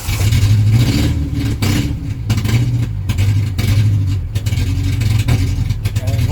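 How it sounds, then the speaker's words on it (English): A Ford Ranger engine that won't take throttle runs loud and close with a rough, pulsing, uneven idle throughout. "Let's see if we can crank it up again."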